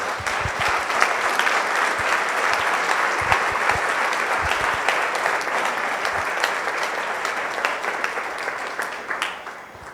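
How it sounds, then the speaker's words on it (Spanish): A Spanish-speaking church congregation gives sustained applause during a sermon, a dense, even clapping of many hands that holds steady for the full stretch at moderate volume, with occasional sharper claps poking through and no voices over it. "denle un aplauso al Rey"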